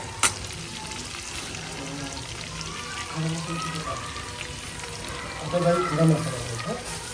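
Curry leaves and coriander sizzling in hot animal fat in a pan, a steady crackling hiss that swells into louder bursts near the end.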